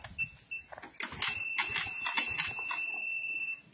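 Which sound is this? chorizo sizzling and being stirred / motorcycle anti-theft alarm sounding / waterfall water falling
motorcycle anti-theft alarm sounding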